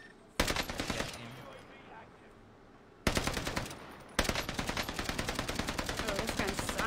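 Rapid automatic gunfire from an STG rifle in a video game, a dense, rhythmic stream of loud shots that stops briefly and resumes twice, with players' voices faintly underneath.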